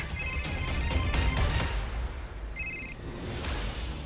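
A telephone rings indoors in two electronic bursts, the first longer and the second short, heard over a busy background of dramatic music.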